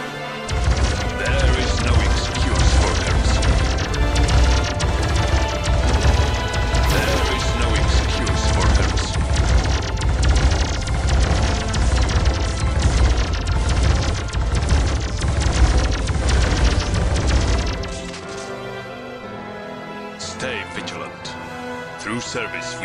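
Constant loud crackling volleys and impacts from Warhammer 40,000 Dawn of War units firing en masse, Demon Hunters against Tyranids, with unit voice lines mixed in, then dropping suddenly to a quieter lull near the end.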